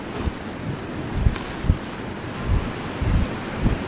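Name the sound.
rushing water of a level 3+ river rapid while rafting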